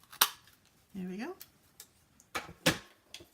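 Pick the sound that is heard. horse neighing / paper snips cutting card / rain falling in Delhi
paper snips cutting card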